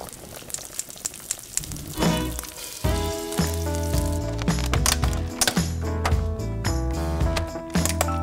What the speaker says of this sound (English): Fry those up real quick.